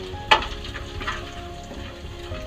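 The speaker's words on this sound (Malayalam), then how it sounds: "അപ്പൊ നമുക്ക് ഇഞ്ചി ഇട്ട് ഒന്ന് കറക്കി എടുത്ത് വെക്കാം." Ginger fries in a pan over a low flame while being stirred, giving a steady soft sizzle with a brief utensil scrape near the start, close and without talk.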